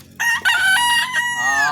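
A rooster crows loudly and close by, one long drawn-out call that rises and then trails off, with a brief cluck at the start, among chickens.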